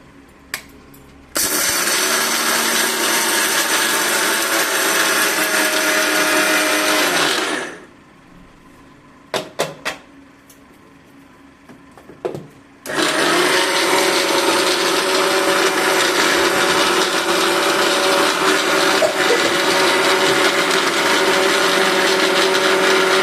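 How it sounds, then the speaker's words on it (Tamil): Kitchen mixer grinder powdering roasted gram, dried chili and salt, running loud and steady in two long bursts with a short pause and a few clicks between. "இப்போ மிக்சியில் வச்சு"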